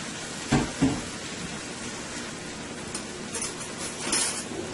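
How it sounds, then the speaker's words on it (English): Washed, cut-up potato pieces dropped into a cooking pot, two clear thuds and clatters close by followed by quieter clinks and rustling as they settle, with no talking. "So now let's add our potato, which I washed and cut up here."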